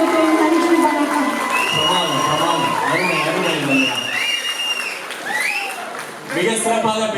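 A debate audience at a Pongal celebration claps and cheers after a speech, loud applause mixed with crowd noise and overlapping voices throughout.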